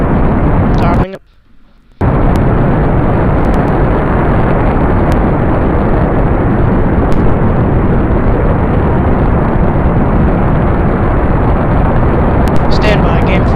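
SpaceX Falcon 9 rocket engines roaring during ascent, a loud continuous broadband roar that drops out briefly near the start and then returns steady, with faint voice traffic audible in the background.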